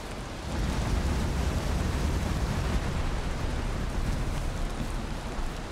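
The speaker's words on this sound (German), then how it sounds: "Irgendwie regnet es nur." Steady rain in the video game Valheim, a broad continuous hiss that holds evenly from start to finish with no voices over it.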